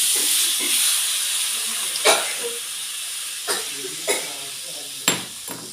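Pineapple juice poured over sugar in a hot pan for pineapple kesari gives off a steady, hissing sizzle, with a few brief louder spits of steam rising above it.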